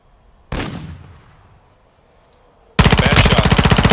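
Gunfire in a video game: a single sharp shot with a decaying echo, a quiet pause, then a loud, rapid automatic burst of evenly spaced rounds at close range.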